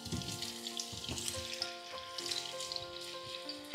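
Potatoes frying in oil in a pan, with a steady soft sizzle and scattered pops and crackles close by, and no voices over it.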